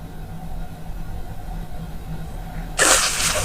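A single sharp sneeze bursts out near the end after a quiet stretch of low background hum, loud and close.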